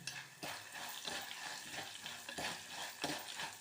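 Black chickpeas, dried sundakkai turkey berry and a broken red chilli frying in hot oil for Brahmin-style vathakuzhambu, a steady close sizzle broken by sharp crackling pops and stirring scrapes.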